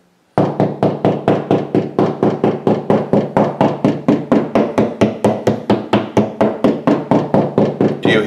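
A knife tapping repeatedly on a wall to locate a stud, producing loud, close, evenly spaced knocks about four per second that continue steadily for several seconds without speech.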